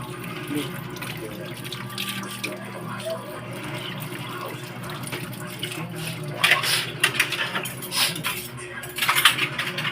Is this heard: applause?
no